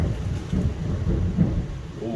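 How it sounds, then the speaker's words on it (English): Low, rolling thunder rumbles steadily through the whole stretch, a broad continuous roar with slight swells, no voices over it. "Hear that thunder?"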